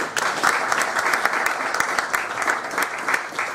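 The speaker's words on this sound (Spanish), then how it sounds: "Aquí lo recibimos con fuertes aplausos." An audience at a university law faculty course in Ica gives loud, dense applause welcoming a speaker, many hands clapping together continuously for a few seconds.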